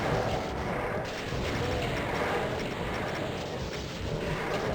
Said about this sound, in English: let's just start firing.